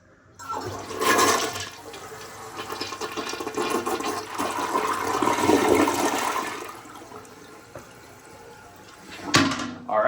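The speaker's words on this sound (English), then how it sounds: "We're gonna flush this toilet." A Crane Plumbing toilet in a hotel bathroom flushes with a loud whoosh that swells and holds, then drains and gurgles as the bowl refills, ending with a brief sharp knock near the close.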